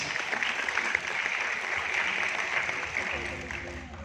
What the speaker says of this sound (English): A big round of applause for Samit sir, please.